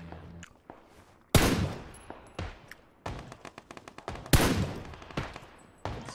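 Shooter-game gunfire from a Fortnite match crackles in two heavy bursts with scattered single shots between them, loud and close, with no talking over it.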